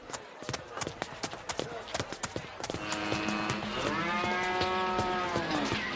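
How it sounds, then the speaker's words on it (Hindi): A buffalo lets out a long, loud mooing call after a run of rhythmic hoof steps, the low drawn-out bellow dominating the latter half. "ध्यान से, वहां पर बफेलो है। ओ, भैंस है तो क्या?"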